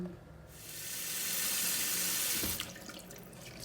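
Running tap water pours over peeled asparagus in a sink, a broad steady rush swelling in the middle, then fading into lighter splashing and handling as the spears are rinsed.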